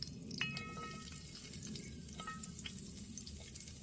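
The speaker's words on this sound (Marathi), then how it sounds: "तेल गरम झालं आणि आता कढीपत्ता टाकते जरा आणि" Curry leaves and garlic dropped into hot oil in a pan at a rainy forest campsite: a continuous crackling sizzle with sharp spitting pops, close and steady throughout.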